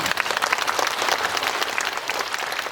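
Sustained audience applause fills a Seoul-area cinema at a live talk event for a Korean film, dense and steady clapping from a large crowd throughout with no voices on top.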